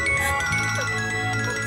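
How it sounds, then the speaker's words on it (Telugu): A phone ringtone plays loud and close in a dramatic film scene, a sustained melodic tone pattern running continuously without talk over it. "ఫోన్"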